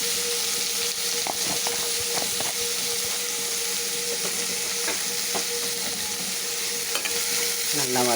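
Onions with salt and turmeric sauté in a little oil in a frying pan, a steady close sizzle with occasional light stirring scrapes throughout.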